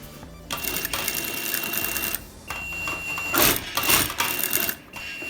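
A sewing machine stitches an invisible zipper into a blouse back, with bursts of rapid needle clatter, short pauses and backstitching, close and fairly loud with some handling noise.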